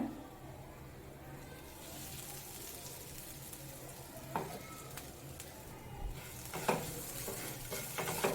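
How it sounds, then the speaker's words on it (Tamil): Onions and ground masala frying in a pan for a raw banana aviyal, making a soft, steady sizzle with occasional spoon scrapes and knocks that grow a little more frequent toward the end. "வெங்காயம் எல்லாம் நல்லா பொரிஞ்சிட்டு இப்போ இதில் அரைச்ச மசாலாவை சேர்த்துக்கோங்க"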